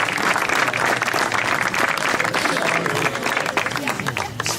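An audience applauds to welcome a speaker at an evening gathering with a Congolese storyteller, a thick, continuous burst of clapping at fairly even loudness, with some voices mixed in under it.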